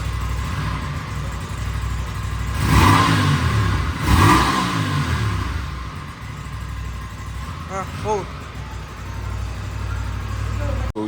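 An Aprilia RS 457, a 457cc two-cylinder sport motorcycle, revs hard at full throttle close by, two big sharp blips rising and falling over a steady idle, then quicker smaller blips, with people talking now and then.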